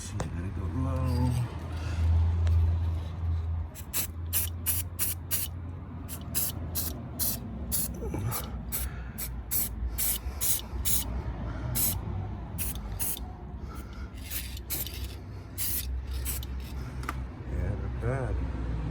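Repeated short bursts of aerosol spray paint applied to a BMW E46 brake caliper in blue, hissing in quick irregular pulses, with a person talking underneath and low background rumble.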